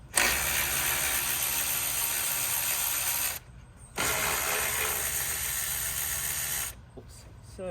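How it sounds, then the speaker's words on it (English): Ratchet wrench working a 10mm bolt loose on a 2003 Toyota Matrix during radiator and fan shroud removal, a steady rapid clicking in two long bursts separated by a short pause, close and fairly loud with background hiss. "Now I'm gonna pull this 10mm bolt out."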